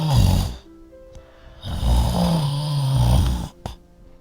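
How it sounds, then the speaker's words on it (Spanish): A snoring sleeper: a short snore, then a longer, louder one followed by a brief snort, close and prominent with nothing else heard. "Primero un ronquidito, luego otro más largo"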